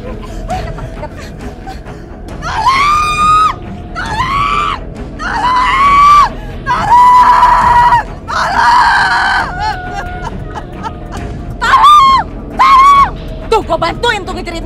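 A woman screams over and over in an Indonesian drama scene, with loud, high-pitched cries in about eight separate bursts, close to the microphone, with brief gaps and some low background noise between them.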